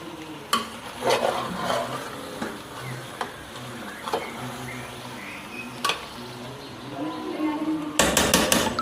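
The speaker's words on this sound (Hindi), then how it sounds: "और इतना मिक्स करें कि आलू के अंदर जो है वो मसाला अच्छे से लग जाए।" A spoon scrapes and stirs boiled potatoes through chicken biryani masala in a pan, with repeated metallic knocks and clatters over a low background sizzle, close and busy, ending in a louder burst of scraping.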